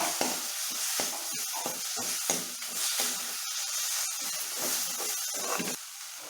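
Gongura and drumstick leaves are stirred in oil in a pan. Rhythmic spatula scrapes and rustling strokes repeat over a light sizzle, close and clear.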